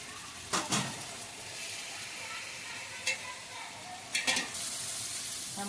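Tomatoes frying with masala in a pan for chicken biryani, a steady close sizzle with a few sharp spatters and clinks of stirring breaking through.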